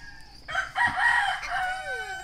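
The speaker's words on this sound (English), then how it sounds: "you wake up to a million roosters, but that's the village" A rooster crows once in a Filipino village, loud and near, its long call rising and then trailing off over a quiet background.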